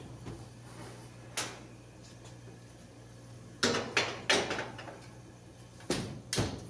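A home oven preheated to 350 is opened and a tray of double chocolate muffins slid inside, giving a few sharp clunks and metallic clatters in pairs against a quiet kitchen background.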